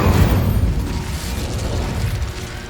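The Incendio fire spell cast in the video game Hogwarts Legacy, a loud, deep whooshing burst of flame that roars steadily and then tapers slightly.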